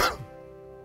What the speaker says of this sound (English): Oh, there's that cough I warned you about.